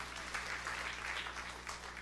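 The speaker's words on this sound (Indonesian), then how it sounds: "Tepuk tangan yang meriah untuk kemuliaan Tuhan." Congregation applause in a church service, a steady wash of clapping at moderate distance, with a low hum running beneath it throughout.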